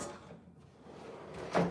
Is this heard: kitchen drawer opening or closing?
yes